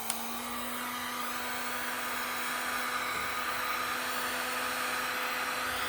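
A heat gun switched on to shrink heat shrink tubing over a soldered wire splice, blowing with a steady, even whine and airy hiss after a brief click at the start, alone without talk.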